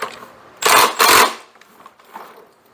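An impact gun fastens a Toro mower drive wheel onto its threaded axle, two loud, dense rattling bursts in quick succession, each roughly a third of a second, followed by quieter handling noises.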